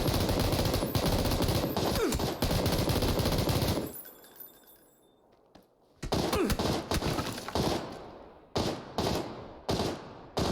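Dense automatic gunfire from a QBZ rifle in a battle royale video game, loud sustained bursts that drop out for a couple of seconds, then return as choppy repeated volleys.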